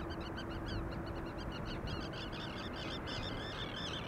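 A flock of seagulls calls repeatedly in rapid, overlapping squawks over steady background noise at an airport, the birds sounding fairly distant.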